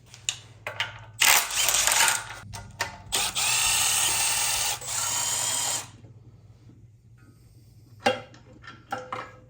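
A power tool or ratchet works loose the crank bolt on an LS3 V8 engine in a garage, with several short loud bursts then a long sustained run of whirring, followed by quieter clicks and brief buzzes near the end.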